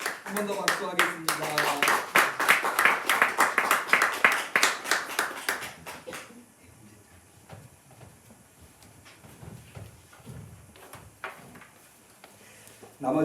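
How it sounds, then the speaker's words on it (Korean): Congregation at a Korean Holiness church Sunday morning service clapping in rhythm, a dense run of loud hand claps for about six seconds, then fading into quieter murmuring room noise with scattered claps. "한 번 더 박수하겠습니다"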